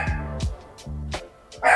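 A dog gives three or four loud, close barks in quick succession, each short and sharp with gaps between, and no talking over them.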